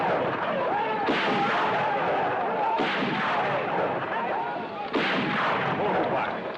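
Gunfire from an old jungle adventure film cracks out in three sharp, loud volleys spaced a couple of seconds apart, each echoing over a noisy, crackling background.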